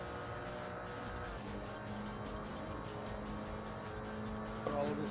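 Engine revving with rising turbo spool from a tuned import car in the Import Tuner Challenge racing game, steady and continuous, with tire noise and a brief louder burst near the end.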